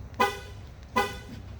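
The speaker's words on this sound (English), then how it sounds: "it's going to honk the vehicle twice and it is going to start the vehicle" A car horn honks twice, two short bright toots about three-quarters of a second apart, over a faint low engine hum.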